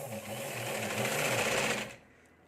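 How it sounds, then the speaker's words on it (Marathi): A sewing machine stitches a blouse fitting in one fast, steady mechanical whir with a regular rhythm, close and clear, stopping abruptly near the end. "मेन फिटिंग करताना आपल्याला काळजीपूर्वक शिलाई टाकायची आहे"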